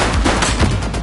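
Dense burst of rapid gunfire from a video game police shootout, loud and continuous across a second with overlapping shots and no voices.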